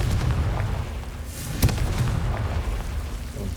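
A Confringo fire spell explodes in Hogwarts Legacy, a single dull boom with a short burst at its center over a low, rumbling game backdrop, with no voices.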